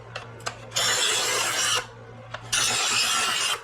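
A knife is drawn through a sharpener in two long, harsh rasping strokes, each lasting about a second, with a few short scrapes and taps before and between them, close and clear.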